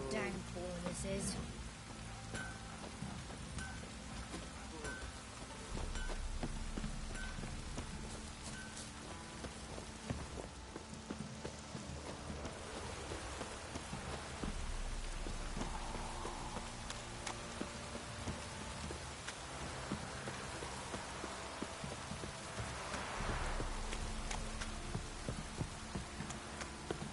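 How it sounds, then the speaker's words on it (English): Steady heavy rain pours down without letup in The Witcher video game, a dense hiss of drops with faint background hum throughout. "Proper downpour, this is."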